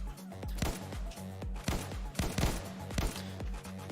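Rapid video game gunfire with slow-travelling paintball-like bullets, bursts of sharp punchy shots repeating in quick rhythmic volleys over about four seconds, loud and close with no talking.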